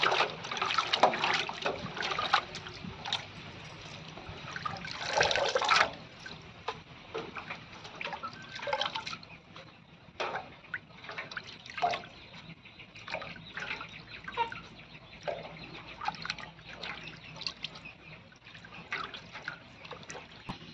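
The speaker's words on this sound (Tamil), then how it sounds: "தண்ணியில் போட்டு நல்லா அலாசுறேன்" Black gram (urad dal) being rinsed in water in a home kitchen: sloshing, splashing and trickling water with intermittent stirring and pouring, louder at the start, then softer dribbles and drips.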